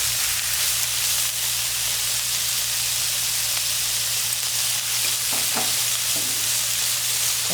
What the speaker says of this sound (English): Oh, you can hear that sizzle.